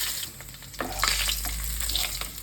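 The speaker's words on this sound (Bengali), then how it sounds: "এর মধ্যে আমি দিয়ে দেবো কালো জিরে, একটু কালো জিরে আর 2টো কাঁচা লঙ্কা" Nigella seeds and two green chillies drop into hot oil and sizzle in a steady, close crackle. Brief stirring scrapes are heard, with no talking.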